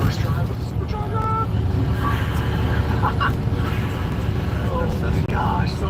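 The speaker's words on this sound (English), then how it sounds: "all you hear right now is blower because we have a totally stock exhaust" Whine of a supercharger on a pickup truck with a completely stock exhaust during its first drive, a thin steady tone riding over continuous engine and road rumble.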